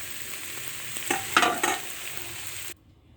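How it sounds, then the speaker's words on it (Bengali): Pumpkin pieces sizzle and crackle while frying in a pan, a steady hiss with a short burst of louder stirring scrapes in the middle before it cuts off abruptly. "দেখেন কুমড়া আমার ভাজা হয়ে গেছে"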